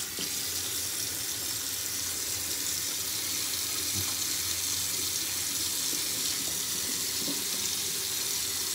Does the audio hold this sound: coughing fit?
no